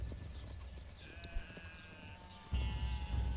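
Sheep bleat faintly in a medieval village of the Manor Lords strategy game, thin calls over a low ambient bed with scattered soft clip-clop, and a deeper rumble entering near the end.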